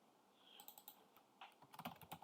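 Quick bursts of keystrokes on a computer keyboard as login credentials for a firewall are entered, close and fairly quiet, with uneven rhythm and short pauses.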